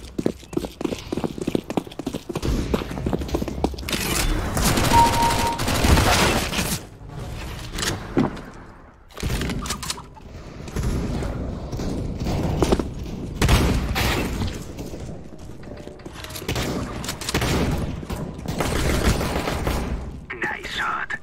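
Sniper rifle shots from Counter-Strike: Global Offensive gameplay, sounding as repeated loud booming reports with clattering in-game effects, spaced through a dense, busy mix of game audio.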